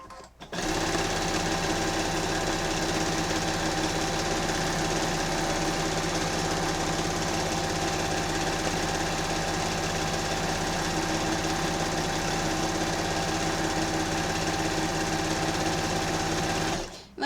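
A sewing machine runs continuously during free motion quilting, a loud, steady, fast mechanical whir held nearly unbroken from start to finish, close to the listener.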